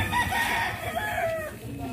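Chickens at a small poultry market in Lipa, Batangas give close, loud clucking and crowing calls over the whole moment, with no talk.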